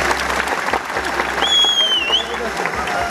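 Wedding guests at a large tribal wedding applaud steadily and loudly, with whistles rising over the clapping near the middle.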